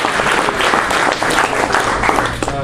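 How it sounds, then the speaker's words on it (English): Audience applause at a Rotary club meeting for a program speaker, a short burst of loud, close clapping from a modest crowd with no talking over it. "Let's give another round of applause."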